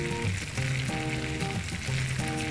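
Garlic sizzling and crackling in a hot pan, a dense, steady frying hiss with some stirring, close and loud with no talking.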